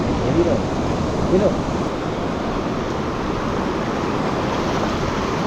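Water rushes loudly at a mountain stream crossing on the Manali to Leh road, a constant broadband roar like surf or a torrent with wind buffeting the microphone, while a couple of brief voices come through underneath.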